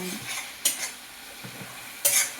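A spice masala for cashew mutton curry fries in a pot while being stirred, with scraping spoon strokes and sharp bursts of sizzle over a low, steady frying hiss.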